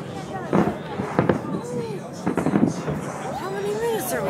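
Fireworks burst over Chicago in repeated booms and crackles at a distance, several loud reports spaced apart, with people talking and exclaiming excitedly close by over the show.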